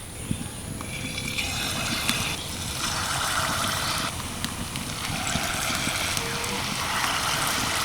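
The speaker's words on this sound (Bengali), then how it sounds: "তেল ভালোভাবে গরম হয়ে গেছে এবার আমি বড়াগুলো ভেজে নেব" Palm fruit fritters (taler bora) fry in hot oil over low to medium heat, giving a close, continuous crackling sizzle that stays steady throughout.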